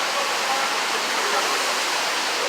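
Water gushing from a large water main break at Neponsit Circle, a steady loud broadband roar like a waterfall, continuous and close throughout with no talk.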